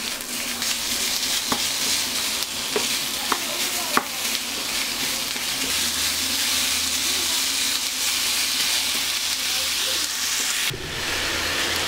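Minced meat sizzling in a pan with softened onion and garlic, a steady loud frying hiss with occasional scrapes and clicks of a spoon, no talking.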